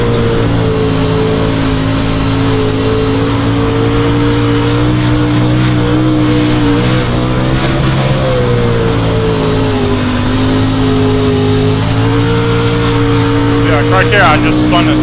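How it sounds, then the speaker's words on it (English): Dirt late model race car in iRacing, a DIRTcar Pro Late Model spinning its tires out of a turn: a loud, steady, high-revving engine drone that wavers slightly in pitch as the throttle is worked, close and continuous throughout. "right there I just spun the tires too much coming up off the turn"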